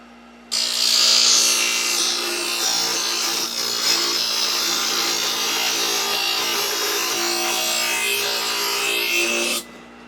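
Sawdust scraped out of the bar groove of a Husqvarna 372 chainsaw, a steady, close scratching rasp of metal against the bar that runs continuously for about nine seconds with no talk.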